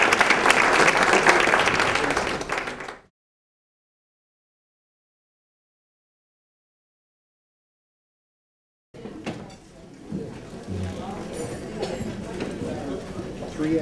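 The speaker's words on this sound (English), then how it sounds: "But let's give one more round of applause to our panelists." A forum audience gives panelists a short burst of applause lasting about three seconds. A long silence follows, then murmuring crowd noise and voices.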